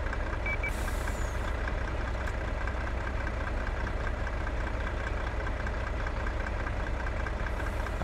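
A Volvo truck engine in Farming Simulator 22, stuck during a river rescue, rumbles in a constant low idle with a knocking, chugging texture, close and steady, with faint beeps over it.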